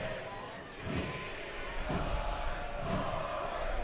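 A big stadium crowd at Keyworth during a Detroit City FC vs. Sacramento Republic FC soccer match, a broad distant roar that swells partway through, with thuds mixed in and a commentator talking over it.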